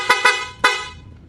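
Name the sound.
horn of a Yamaha Sniper MX 135 motorcycle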